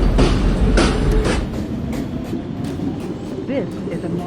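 A Manhattan-bound NYC subway R142A 2 train rolls into a station, its loud rumbling wheels and clattering rail joints giving way to squealing brakes as it slows, with an announcement voice over the din.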